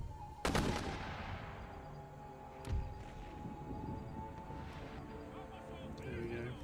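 Gunners firing in Empire: Total War, with a sharp cannon or musket blast early, a second dull thump, and scattered distant shots over battlefield ambience, with a voice speaking over it.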